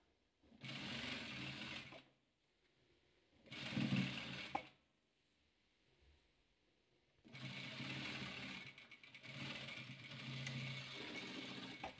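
A sewing machine joins rows of patchwork quilt pieces, whirring in three separate bursts of steady stitching, short then longer, with quiet pauses between, soft and close with no talking.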